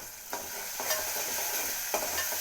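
Tomato masala with salt and turmeric sizzling in a pan while being stirred, a constant hiss broken by a few scraping spatula strokes close up, with no talking.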